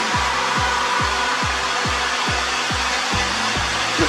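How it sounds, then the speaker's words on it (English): A heat gun blasts from a distance onto fresh lacquer on a blacked-out headlight from a Ford Transit Connect MK1. Its loud, steady close airflow carries a regular, repeating low pulse underneath. "what I then do is just with the heat gun, just give it a, from a distance,"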